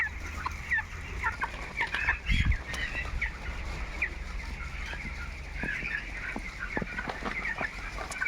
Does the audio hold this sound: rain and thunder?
no